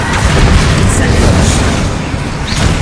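Incendio fire spell cast in Hogwarts Legacy, a loud continuous burst of booming fiery rumble lasting a few seconds, mixed with other game effects.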